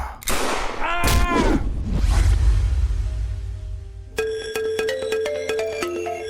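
A phone ringtone in a Hindi-dubbed action movie begins partway through, a bright, repeating electronic melody that plays clearly after a burst of whooshing and thudding action sound effects.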